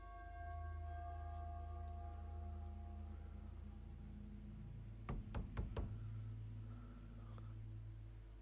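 A quick burst of several sharp knocks on a door in the horror video game The Casting of Frank Stone, heard near the middle over a low steady background hum.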